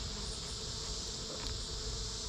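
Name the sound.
bees buzzing at a beehive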